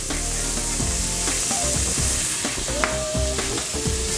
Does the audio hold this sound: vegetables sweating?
yes